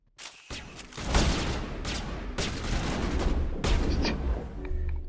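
Sustained volleys of gunfire in the video game Mass Effect, with sniper shots cracking among loud, dense bursts that continue almost without pause, close and heavy throughout.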